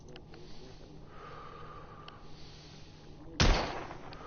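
A single sharp gunshot from a weapon in The Order: 1886 video game, a loud burst near the end after quiet ambient background, trailing off in a short decay.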